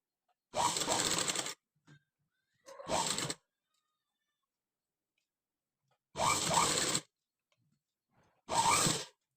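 Sewing machine stitching cloth for a sleeve potli in four short, separate bursts with silence between them, close and fairly quiet.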